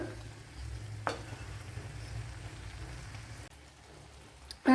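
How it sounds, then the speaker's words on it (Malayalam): Chicken curry stirred in a hot pan gives a soft continuous sizzle with scraping strokes, a sharper scrape near the start and a brief clatter at the end. "ഒന്ന് തുറന്ന് ഒന്ന് ഇളക്കി കൊടുക്കണം"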